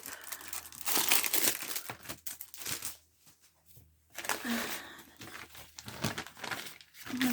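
Paper being crinkled and crumpled in bursts, with a short quiet pause midway before more rustling handling resumes close by.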